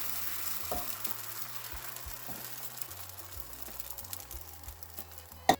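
An egg sizzles and crackles in a pan greased with avocado oil, a steady close frying hiss with a few soft spatula clicks and a sharp tap near the end.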